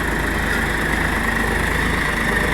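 A Swaraj 742 XT tractor with a 45 hp three-cylinder engine idles close by, a steady, even diesel throb that stays at constant loudness with no voices over it.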